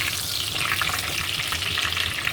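Cardamom, bay leaves and cinnamon fry in hot oil with a dense, steady sizzle and crackle, close and loud throughout, with no voices.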